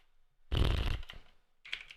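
Short burst of typing on a computer keyboard, a dense cluster of close key clicks followed by a pause and a brief second flurry, with no voice.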